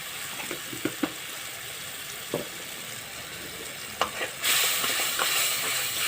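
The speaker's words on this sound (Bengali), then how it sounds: "এবার মশলাটাকে ভালো করে কষে নেব" Turmeric-spiced masala for a taro and eggplant curry is sautéed in a pan: soft sizzling punctuated by scattered spoon scrapes and taps, then the sizzle suddenly surges louder and hisses strongly toward the end.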